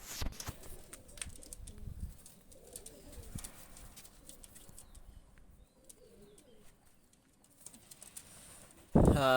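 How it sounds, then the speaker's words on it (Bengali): Pakistani high flyer pigeons being released, soft cooing and faint wing flutters against quiet outdoor background, ending with a sudden louder burst of noise and a brief voice. "দুইটা কবুতার অনেক কোয়ালিটি ফুল সম্পূর্ণ কবুতার দুইটা কবুতার আমি ছেড়ে দেখাচ্ছি"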